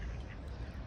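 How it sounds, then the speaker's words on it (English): Ducks quack along a canal beside a narrowboat, fairly faint and steady across the short moment, mixed into an outdoor wash of background noise. "Now these are definitely ducks."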